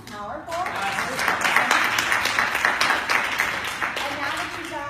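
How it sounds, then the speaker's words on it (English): An audience claps and cheers after a sales and communication session, a broad sustained round of applause that swells and continues under a speaker's voice. "But big round of applause for what Dawn started us out with this morning or this afternoon after lunch with sales and communication."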